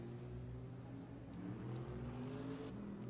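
An Alfa Romeo or Opel Super Touring car engine in the racing game RaceRoom drones steadily, its pitch rising and falling slightly as the revs change, fairly quiet and continuous with no talk.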